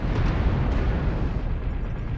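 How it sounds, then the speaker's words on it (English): Explosions in a video game fight rumble and boom continuously, a loud, dense low roar of bursts with no voices over it. "There's lots of explosions."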